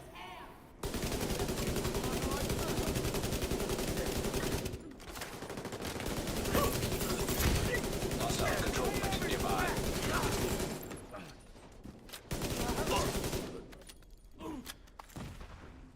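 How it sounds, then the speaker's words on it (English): Sustained bursts of video game gunfire firing at a lock, dense and loud for several seconds, with short pauses between volleys and a final burst; a voice talks faintly underneath. "Oh yeah, I had to shoot the lock off here"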